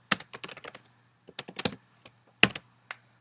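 Close, quiet keyboard typing in short bursts of rapid clicks, separated by brief pauses.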